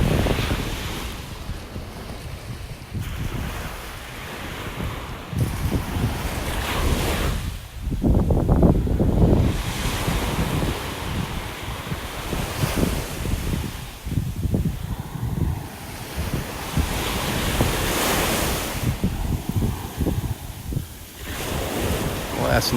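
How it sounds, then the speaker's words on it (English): Ocean waves on the mile-long beach at Del Nor-Wiggins, North Naples, Florida, rolling in with repeated swells of surf over a steady wash, some wind buffeting the microphone, moderately loud and without talk. "There's that look at our mile-long stretch of beach here at Del Nor-Wiggins."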